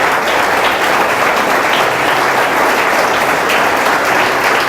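A Nova Vida church congregation in Ourinhos applauding during a service: loud, dense, sustained clapping from many people filling the room evenly, with no pauses.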